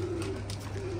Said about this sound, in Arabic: طيور جديدة